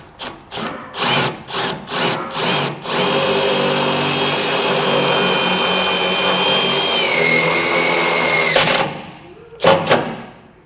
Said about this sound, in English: use the self-tapping screw that came in the kit. And we can just shoot that right in